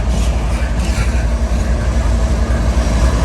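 A CSX freight train's cars, some loaded with sheetrock, roll past nearby in a steady loud rumble with rattling and a low droning hum that runs throughout without pause.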